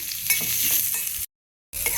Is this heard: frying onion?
yes